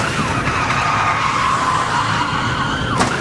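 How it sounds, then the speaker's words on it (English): Top-heavy van skidding into a spin-out during a police chase, a long tire screech sweeping across the whole moment with road noise under it and a sharp squeal near the end. "This spin-out was unavoidable once the top-heavy van clipped that car."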